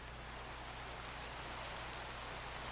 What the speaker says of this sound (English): unbelievable. It rains so much.